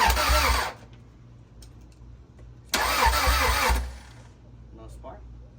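A Honda Integra with a B20V engine cranks in two short bursts separated by a pause, failing to catch, loud and close, with brief talk in between.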